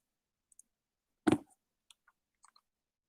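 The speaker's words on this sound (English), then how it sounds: "I'll click on Paula's page for you guys" A single sharp computer mouse click on a web page link, close and clear, followed by a few faint scattered ticks in otherwise quiet surroundings.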